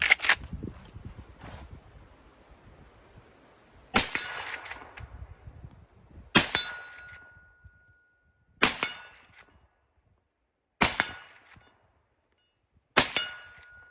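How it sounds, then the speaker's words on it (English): A Winchester Model 1894 lever-action rifle fires five shots at steel plates about 50 yards away outdoors, each shot a sharp crack with a bright metallic clang, spaced a few seconds apart, loud and clear. "So we're gonna take a few shots, see how it performs on the steel."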